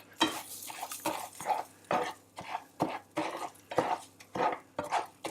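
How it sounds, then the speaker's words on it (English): Paella rice being fried in oil in a pan and stirred, with repeated scraping strokes of a utensil across the pan in an irregular rhythm, each over a light sizzle, close and clear with no talk. "so what we do is we fry off the rice in the same way"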